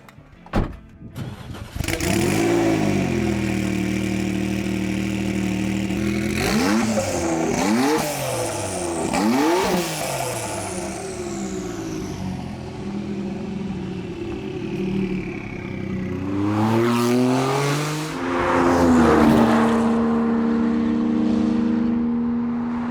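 A Jaguar XJ220 engine starts, then revs hard several times and accelerates away, loud and close with rising and falling pitch and no talking.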